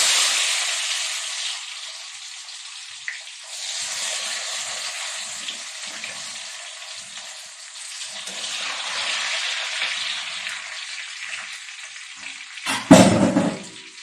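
Washed cashews dropped into hot ghee in an iron pan set off a loud, bright frying hiss that ebbs and swells over several seconds, ending in a sharp clatter of the pan; no voices.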